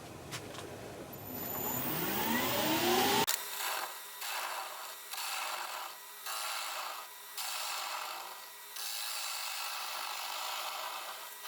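A woodturning tool cuts the inside of a wooden bowl of undried wood on a lathe, first as a loud, steady rasping cut, then as a series of shorter repeated scraping passes with brief pauses.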